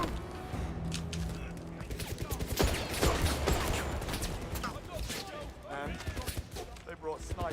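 Sniper and other gunfire in the 007 First Light video game, dense overlapping shots and bursts crackling continuously through the stretch, loud and busy with game effects and some voices mixed in.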